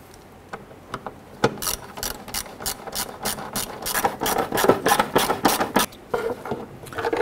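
Hand ratchet loosening small 8mm air box bolts on a 1997-2006 Jeep Wrangler, heard as bursts of quick, close clicking with brief pauses between strokes and no talking.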